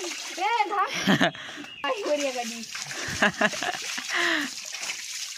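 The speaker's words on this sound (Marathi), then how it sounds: "हो पाणी फेकावं लागतं म्हणजे मासे येतील" Children's voices chatter over a couple of brief, splashy bursts of muddy water thrown nearby to draw fish in a village.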